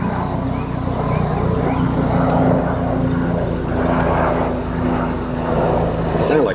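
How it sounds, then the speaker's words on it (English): A helicopter passes overhead outdoors, a loud sustained rotor and engine drone with a steady low hum, swelling and easing slightly as it flies over, heard alone without talk. "It sounded like a helicopter, but I didn't see it."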